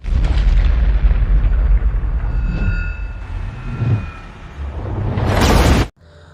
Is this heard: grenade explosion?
yes